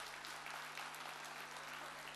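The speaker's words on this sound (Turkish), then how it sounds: "Sayın Muhittin Çalağan geliyor alkışlarınızla" Audience applause at a Bingöllüler community evening, a steady wash of clapping lasting a couple of seconds, fairly faint and distant, with a low hum underneath and no talk.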